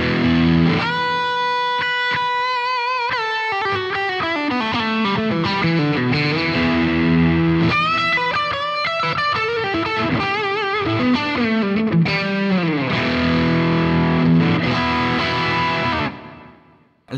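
Overdriven electric guitar through Kinman Magnum Opus 59 noiseless pickups in the second switch position, played as a continuous distorted run of chords and single-note lines, loud and steady for about sixteen seconds before ringing out.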